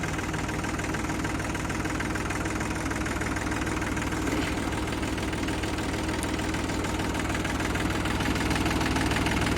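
A rebuilt 39-horsepower Mahindra B 275 DI Bhoomiputra tractor engine idles, a steady, loud diesel chug with a knocking rumble that keeps going without a break.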